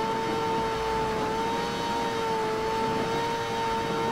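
A 2021 BMW M 1000 RR motorcycle engine runs at very high speed, a loud steady high-pitched whine that stays nearly constant in pitch throughout, with wind rush beneath it.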